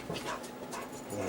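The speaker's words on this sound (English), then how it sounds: "Oh man, they're good guard dogs" Guard dogs pant and whimper close by, a brief breathy, restless stretch of canine noise with no speech.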